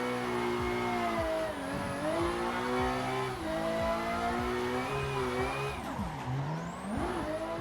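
Engine revving with rising and falling harmonics and tire squeal as a car drifts up a corkscrew ramp and spins donuts in Assetto Corsa, loud and continuous throughout with no talking.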